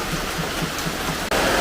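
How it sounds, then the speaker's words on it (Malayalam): Heavy rain pours down steadily in a dense, constant hiss, loud and close, on a rural Kerala homestead where sheets were set up against leaking water. "ചെറിയ രീതിയിൽ തുടങ്ങിയ മഴ എപ്പോഴാണോ പെട്ടെന്ന് ഭയങ്കര ശക്തിയായി."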